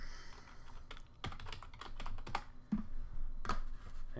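Someone types on a computer keyboard at a desk, a close, quiet patter of irregular clicks and key taps building into a steadier run of keystrokes.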